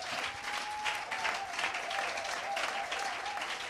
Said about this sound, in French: faire une main d'applaudissement pour nos pasteurs